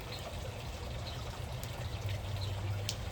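Water trickles and pours steadily while a chlorine test vial is rinsed out beside a newly refinished pool, a continuous low splashing flow with no talk.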